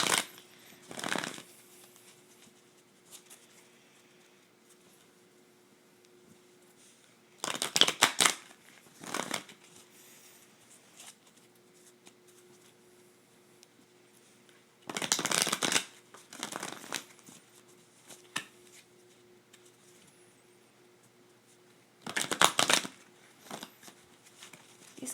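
Tarot cards shuffled in quick bursts, four short crisp riffling flurries spaced several seconds apart, with quiet gaps between and no talk.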